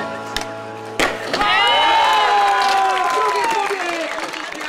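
Young people gathered at a skatepark in Sosnowiec, a loud crowd swell of cheering and clapping building up and holding steady, with a brief sharp clatter before it.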